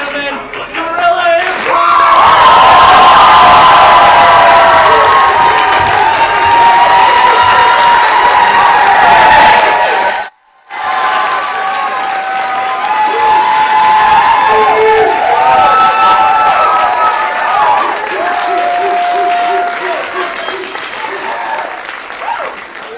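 An improv show audience yells, whoops and applauds loudly in a sustained roar of cheering that cuts out briefly midway, then surges back into continued clapping and shouting.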